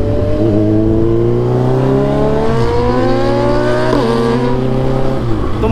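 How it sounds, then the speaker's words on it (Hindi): A loud, continuous motorcycle engine roar with an aftermarket exhaust, close by, its pitch rising steadily through a couple of gear shifts, harsh and throaty throughout. "बहुत आवाज़ है इस बाइक की"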